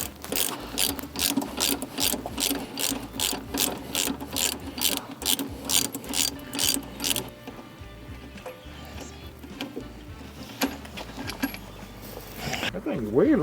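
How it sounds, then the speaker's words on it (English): A ratchet wrench clicks rapidly in steady bursts while tightening bolts on a 2023 Harley-Davidson Road Glide Screaming Eagle, close and loud, then stops as people talk and mechanical clatter follows. "You can go ahead and tighten it up."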